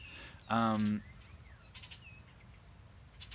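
A cardinal calls in a backyard, with a few short whistled chirps at moderate distance; a brief loud voiced sound cuts in near the start.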